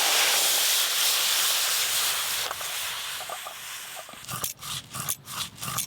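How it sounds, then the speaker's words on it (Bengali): Water heats in a pot on a kitchen stove with a strong, steady hiss that gradually fades. Scraping and clinking kitchen sounds follow near the end, and no one speaks. "জলটা এদিকে ভালো করে গরম হতে থাক"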